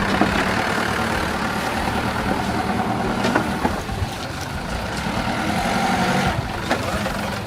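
A truck engine idles and rumbles steadily close by at a farm gate, a low continuous drone with a few clunks and knocks over it.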